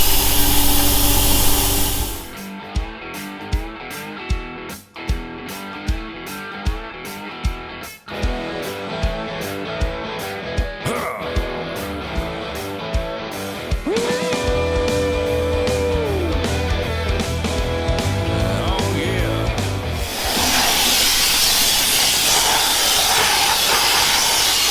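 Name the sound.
water blasting an MF 1200 engine with Aquablaster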